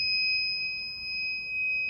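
A Raspberry Pi fire-detection buzzer alarm sounds a steady, piercing electronic tone, continuous and close with no pauses, over faint background hiss.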